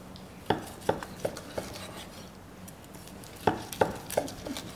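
A knife slices a tri-tip steak across the grain on a cutting board, making two clusters of about four soft, distinct taps each, separated by a short pause, close and fairly quiet.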